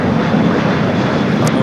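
An Asiana airliner taxis into the Tom Bradley terminal gates at LAX, its engines giving a loud, steady, broad roar throughout.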